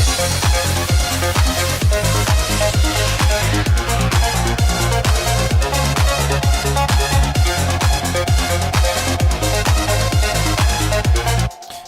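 Layered electronic synth music from a Roland JP-8000 and DeepMind 12 with a steady driving beat and repeating bass pulses, playing continuously until it cuts off near the end.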